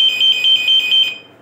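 A LAN cable tester receiver beeps loudly on a connected cable, sounding a rapid, piercing high-pitched pulsing tone close up for about a second before fading out, with no talk.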